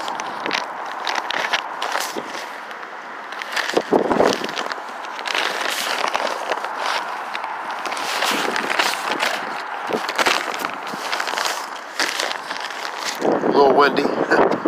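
Gusty wind rumbles and buffets the microphone throughout, with bursts of rustling noise and a few faint chirps near the end.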